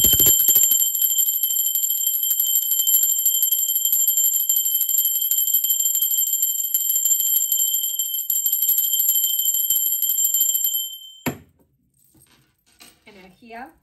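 A bell is rung during a tarot reading, ringing continuously and steadily for about eleven seconds before cutting off abruptly, followed by a brief faint voice.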